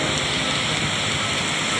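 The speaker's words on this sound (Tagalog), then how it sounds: "Bumuhos ang ulan eh. Malakas pa talaga yung patak." Heavy rain pours down in a continuous, dense roar of hiss, loud and unbroken with no gaps, and no voices over it.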